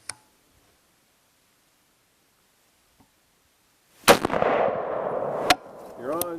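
A single sharp rifle report cracks out while a SpecterDR scope is being zeroed, loud and abrupt, followed by a short rumbling echo and a faint click, then a brief voice.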